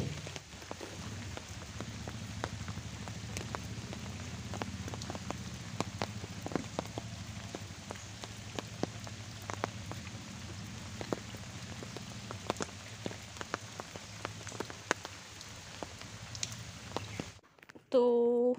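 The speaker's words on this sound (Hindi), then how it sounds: "अभी बारिश रुकने का नाम तक नहीं ले रही" Steady rain patters on a hard surface, with scattered louder drips and taps, continuing evenly before cutting off at the very end.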